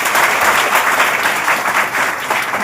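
Loud, dense applause from a workshop audience honoring the college principal at a three-day AI and ML workshop, a steady, close wash of many hands clapping with no gaps.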